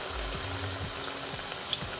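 Onion pakoras frying in hot oil, a steady close sizzle with soft bubbling and a few light clinks, no voices.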